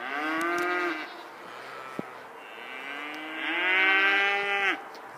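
A human voice imitates a cow, giving two long, drawn-out moos with a pause between them, loud and close, with no other talking.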